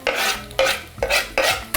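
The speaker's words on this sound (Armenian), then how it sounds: "մի քանի կաթիլ ձիթայուղ և տապակում ենք փետրաձև կտրատած սոխը։" Sliced onion, cut into thin feathered strips, frying in a few drops of olive oil, with repeated bursts of stirring and sizzle in four close, evenly spaced strokes of a utensil against the pan.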